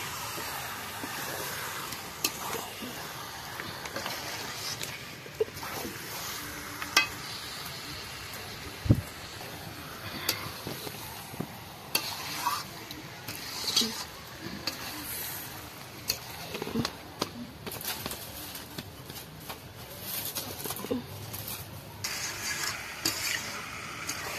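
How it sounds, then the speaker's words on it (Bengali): Meat and spices stirred in a pan over high heat give a soft, ongoing sizzle broken by intermittent scraping and clinking strokes of a spoon, fairly faint and close. "মাংস আর মশলা খুব ভালোভাবে হাই হিটে 2 থেকে 3 মিনিট ভালো করে কষিয়ে নিয়েছি।"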